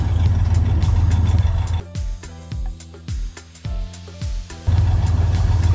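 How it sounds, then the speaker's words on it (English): A 1963 Pontiac Grand Prix with a 389 V8 and a new full aluminized exhaust rumbles with a mellow, low idle. Several short throttle blips break the idle in the middle before the steady rumble returns. "It is not loud, has a nice mellow sound, and full aluminized system front to rear."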